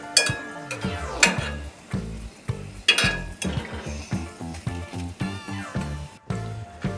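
Golden dahi bhalle frying in hot oil and being lifted out, with a continuous sizzle under repeated metallic clinks and scrapes of a slotted spoon against the pan, close and busy, no voices.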